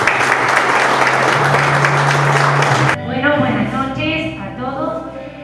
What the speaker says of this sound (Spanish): David, un fuerte aplauso para ti.